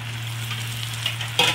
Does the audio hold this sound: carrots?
yes